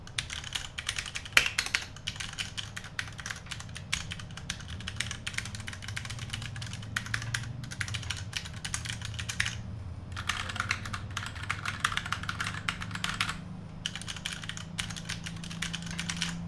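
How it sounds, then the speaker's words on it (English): A Ducky mechanical keyboard with Cherry brown switches is typed on up close in a long, steady stream of clacky keystrokes, broken by a couple of short pauses and with no talking. "Typing test on the Ducky."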